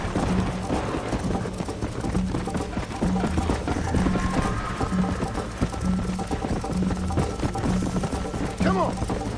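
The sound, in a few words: horse galloping in Red Dead Redemption video game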